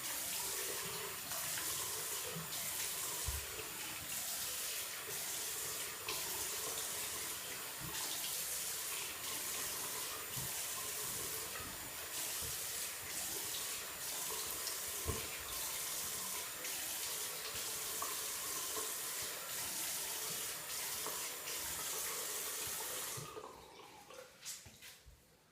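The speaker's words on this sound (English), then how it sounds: "I'm just going to rinse my face off with some cool water." Cool tap water runs steadily from a faucet into a sink while someone rinses their face after a wet shave, a close continuous splashing hiss with small irregular splashes, stopping near the end.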